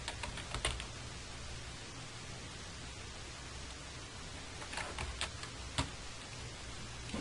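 Soft, faint keyboard typing with a few scattered clicks and short bursts of keystrokes over a steady background hiss, entering a firewall command on a computer.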